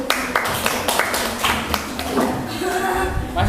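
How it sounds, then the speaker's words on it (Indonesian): A classroom audience clapping hands in scattered, uneven claps and taps, fairly close, with voices talking over and around them. "Oke, tepuk tangan sekali lagi."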